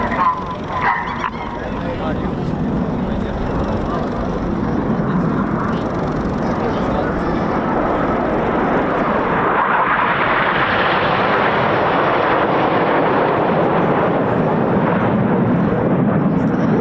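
A Red Arrows jet display at the Cosford Air Show 2024, with a Gnat tribute formation, gives a loud, steady jet roar that swells and shifts in pitch as the aircraft pass, while a commentator talks over it.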